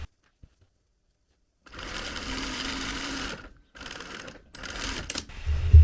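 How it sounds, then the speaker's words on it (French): A sewing machine runs a straight seam 1 cm from the fabric edge, starting after a short silence and continuing in close, rapid bursts broken by brief stops. "Une simple piqûre à 1 cm du bord."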